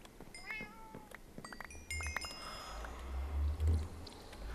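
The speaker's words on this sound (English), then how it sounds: "You stupid cats." Several cats meow in Minecraft, with the Agrarian Skies modpack, in short chirpy calls scattered over a low droning game background that swells at times.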